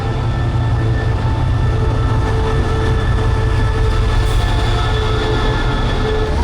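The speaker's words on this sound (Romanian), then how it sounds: "Vine trenul acum la 20." A train arriving at a station gives a loud, steady rumble of wheels and carriages rolling close by, with faint high metallic squeals over the constant roar and no talking.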